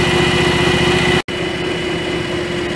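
A John Deere X738 lawn tractor engine runs at a steady, loud drone nearby, with a brief cutout about halfway through before the same continuous hum resumes; no talking.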